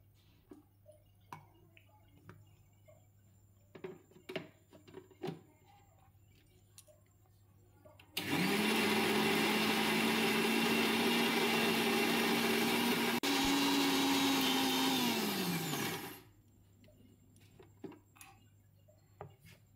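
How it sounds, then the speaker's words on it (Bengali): An electric blender whirs loudly and steadily for about eight seconds, blending fried onions for a mutton marinade, with a brief dip in pitch midway, bracketed by quiet kitchen clatter. "এবার আবারও একসাথে ব্লেন্ড করে নেব।"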